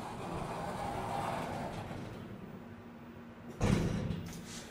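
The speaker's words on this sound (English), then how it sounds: "We'll close the door." A ThyssenKrupp elevator car door slides shut while the car is in fire service mode, a steady mechanical rumble that ends in a loud thud as the door closes.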